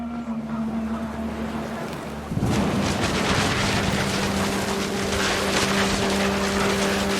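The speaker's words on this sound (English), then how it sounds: "The rain came down in buckets then" A thunderstorm's steady roar of heavy rain in the video game What Remains of Edith Finch starts abruptly and continues at constant loudness, with a low hum underneath throughout.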